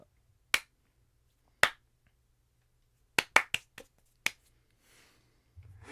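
Sharp, isolated hand claps ring out in a quiet room: two spaced claps, then a quick flurry of several more, each crisp and brief against near silence.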